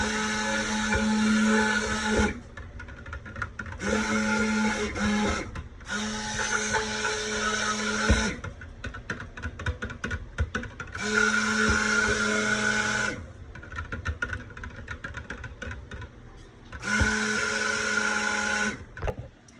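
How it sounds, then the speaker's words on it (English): A stick blender mixing soap-making oils whirs in repeated bursts of a few seconds each, separated by short pauses with quieter rattling in between. "I'm going to blend the oils with the"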